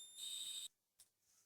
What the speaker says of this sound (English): we see that the buzzer is ringing as well as the transmitter is transmitting a signal